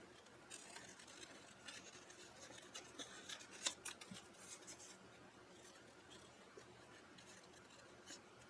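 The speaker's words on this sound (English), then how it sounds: "Does anybody else have a pair of scissors?" Scissors cutting paper for a collage, giving faint, quiet snipping and rustling with one sharper snip near the middle, close by and with no talking.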